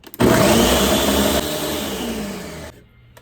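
A kitchen blender on its high setting purees peppers, onions and liquid for birria, a loud continuous whirring roar that eases slightly partway through and then cuts off abruptly.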